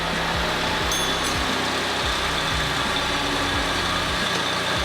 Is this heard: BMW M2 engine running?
yes